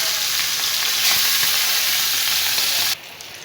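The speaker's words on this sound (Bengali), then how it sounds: "এই যে আমার বেগুনগুলি হয়ে যাচ্ছে ভাজা" Brinjal and fish fry together in a pan with a loud, dense, close sizzle that stops abruptly near the end; no voices.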